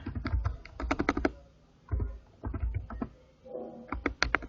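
Fingers tap on a computer keyboard in quick bursts of close, crisp clicks separated by short pauses, with no talking.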